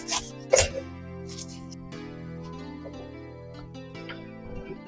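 A pineapple being cut with a knife in a home kitchen, a few sharp chopping thuds and scraping strokes at close range early on, then quieter rubbing cuts over a steady background hum.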